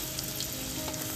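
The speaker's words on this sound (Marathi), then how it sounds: "तेलामध्ये एक मोठा कांदा ऍड करतो." A large onion sizzles in hot oil in a pan for a chickpea and pea amti, a brief, dense, crackling fry heard up close without any voices.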